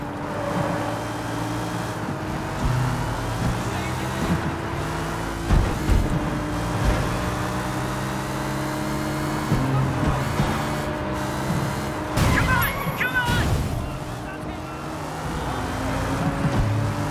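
A car chase in the video game Sleeping Dogs with ramming: engines roar steadily under heavy traffic noise, broken by several sharp thuds and crunching impacts, including a louder clash near the end.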